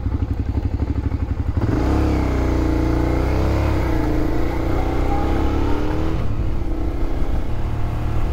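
A Suzuki SV650 motorcycle engine of about 70 horsepower pulls up a steep hill on a country road, with a loud, steady onboard drone and harmonic pitch rising and falling as the bike works through the climb.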